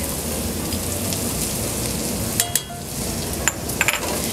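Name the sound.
minced garlic sizzling with sweated onions, stirred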